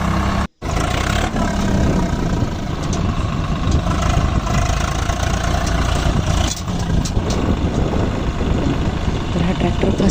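A tractor stuck in deep mud with its engine running, a loud continuous low rumble filling the whole stretch with a brief dropout near the start.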